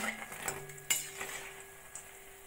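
Oil sizzles quietly in a pan while a metal utensil scrapes and clinks a few times as fried mung dal pakon pitha cakes are lifted out.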